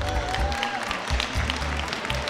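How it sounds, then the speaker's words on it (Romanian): Crowd applause fills the arena at the start of a basketball game on a Halloween-themed night, a dense steady clapping that holds throughout with no talk heard. "Și evident este aplaudat."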